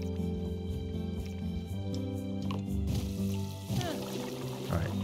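Bubbling, gurgling water from a pot in the cooking minigame of the video game Moonglow Bay, rising over steady game music in the second half, with light splashy detail.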